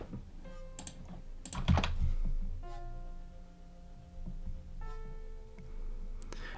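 Code being typed on a computer keyboard: irregular clicks and key taps, with a brief flurry of louder strokes, over a faint steady hum.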